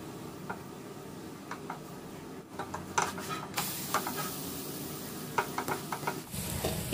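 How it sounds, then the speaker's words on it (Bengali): Coriander leaf paratha frying in butter on a pan, pressed down repeatedly with a spatula: a steady close sizzle broken by scraping, tapping spatula strokes that flare louder in the second half, with no talk. "এইভাবে দুটো সাইড আমি খুন্তি দিয়ে চেপে চেপে ভালো করে ভেজে নেব।"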